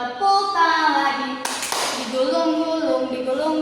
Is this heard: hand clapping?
yes